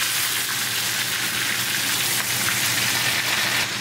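Steak pan-frying in butter gives off a loud, steady sizzle with dense crackling spatter that holds evenly the whole time, close and with no voices.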